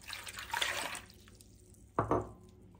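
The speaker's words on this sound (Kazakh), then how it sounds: "Екінші кесе суымызды да құямыз." Water is poured into a bowl of salt for manti dough, a brief splashing pour in a quiet kitchen that follows a softer earlier trickle.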